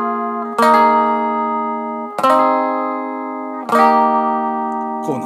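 Electric guitar playing a riff with a clean tone and no overdrive: three strummed chords ringing out several seconds apart, followed by a fourth brief strum, close and fairly loud with no voices.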